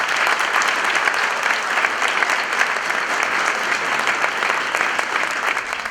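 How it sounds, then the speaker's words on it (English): An audience at a talk on the Allegory of the Cave applauds steadily, a dense, even wash of clapping that carries on loudly for several seconds with no letup. "Please, a round of applause for"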